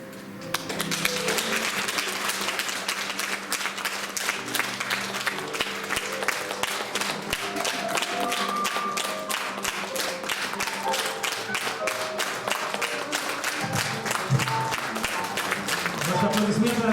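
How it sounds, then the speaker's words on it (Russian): Sustained audience applause for actors of the Chuvash State Youth Theatre after a historical reenactment, dense steady clapping from a large crowd with some tonal background sound underneath, lasting throughout. "Наши аплодисменты артистам Чувашского государственного театра юного зрителя за прекрасную реконструкцию событий 150-летней давности"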